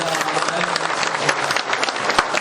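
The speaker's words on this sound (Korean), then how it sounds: "박수로 환영하시겠습니다" A church congregation claps to welcome a new member, a continuous burst of applause from many hands in the sanctuary, fairly loud and steady throughout.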